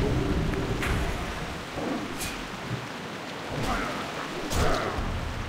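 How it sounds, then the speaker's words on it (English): Thunderstorm ambience in World of Warcraft Classic: steady rain hiss with several sharp thunder cracks and rolling rumbles, moderately loud and continuous. "I just can't get over the storm."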